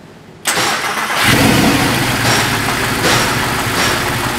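An Alfa Romeo 159 engine cranks and fires, then settles into a steady, fairly loud idle with a slight early rev.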